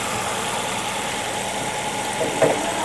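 A 2016 Honda Grace EX hybrid with a 1500cc engine idles with a steady, soft low hum, nearby and alone, with a brief small knock near the end.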